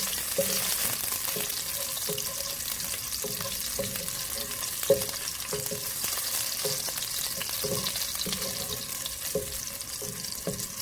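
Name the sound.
garlic cloves toasting in ghee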